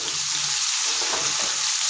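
Tomatoes, green chillies and curry leaves sautéing in a pan, giving a constant loud close hiss of frying with faint stirring underneath.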